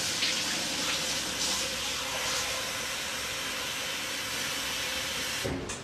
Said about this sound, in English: So I'm over at the sink, just making the water warm.